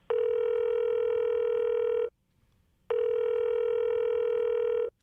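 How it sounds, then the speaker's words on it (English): Two long, steady telephone voicemail tones, each about two seconds and separated by a short silence, loud and clear with no voices. "Please leave a message after the tone."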